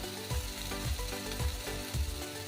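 Onion sizzling in a pan with a little salt and paste, a continuous close frying crackle with regular soft stirring knocks about every half second.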